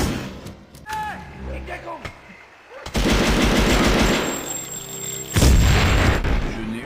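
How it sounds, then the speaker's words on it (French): Gunfire and a grenade blast from the Medal of Honor video game, World War II combat against the Wehrmacht: scattered shots, then a loud sustained burst of automatic fire and booms, with a voice speaking over the early part. "Je vais lancer une grenade, c'était pour changer."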